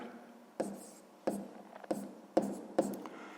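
Pen strokes on paper while working a sixth-grade math exercise come in short, separate scratches, about five quick bursts with small gaps between them. They sound close but quiet.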